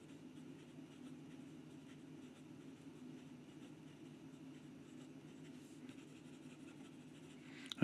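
A first-generation Visconti Rembrandt fountain pen writes quickly on paper, a soft, steady, close scratching that runs continuously throughout without any talking.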